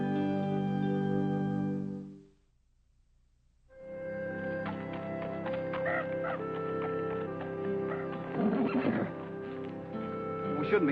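Horses ridden along a trail, heard as whinnies and neighs with scattered hoof clip-clop, broken by a short near-silent gap, while music plays over the whole stretch.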